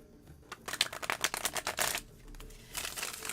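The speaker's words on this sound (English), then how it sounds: "I'm done having my fun shuffling now" A deck of playing cards is shuffled repeatedly in quick riffling bursts, crisp and close, with a short pause between rounds of fluttering clicks.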